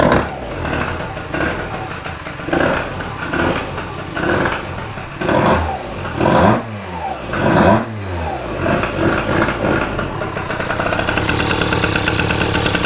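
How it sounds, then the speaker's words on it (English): A Malaguti Phantom F12 race scooter with a horizontal Minarelli engine revs hard on a test ride, its two-stroke note rising and falling through repeated bursts of acceleration, loud and close, ending in a sustained high whine. "we are going to be taking the Malaguti on a little test spin right now"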